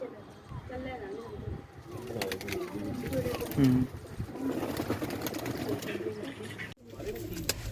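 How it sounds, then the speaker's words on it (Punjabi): Pigeons at a racing competition give soft cooing against a steady outdoor murmur of people talking and background noise, fairly faint. "ਇਹ ਉਹਨਾਂ ਦੇ ਕਬੂਤਰ ਜੀ"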